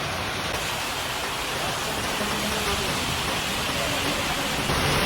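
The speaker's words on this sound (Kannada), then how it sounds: "ಮಳೆ ಜಗ್ಗಿ ಬರ್ಲಾತದ ಇಲ್ಲಿ ದುಕಾನ್ದಾಗಿ." Heavy rain falls outside a shop, a dense, unbroken hiss that stays loud and even throughout, with a voice faintly present underneath.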